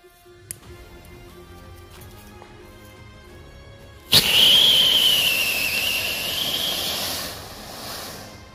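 A Diwali firework cracker ignites with a sudden sharp burst, then gives several seconds of loud, fizzing, whistling hiss that slowly fades, after a quiet stretch with faint background sounds.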